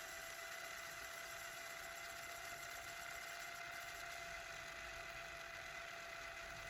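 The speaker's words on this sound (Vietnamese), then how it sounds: "Dàn cơ này tua băng rất khỏe." Mitsubishi HV-56A front-loading VCR tape mechanism rewinding, a steady whirring motor hum with a faint high whine, continuous and even at low level with no talk.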